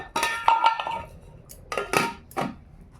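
A cooking pot of rice is lifted off the stove with a few brief metallic clanks and scrapes, sporadic and close, separated by short quiet gaps.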